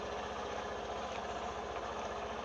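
A motorbike engine idles steadily with a low, even throb, held at moderate level and heard alone without talk.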